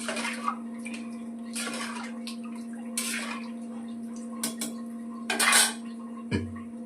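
Utensil scrapes and clatters against a pulao cooking pot in a few bursts as rice is stirred and mixed, with a steady low hum underneath and no talking.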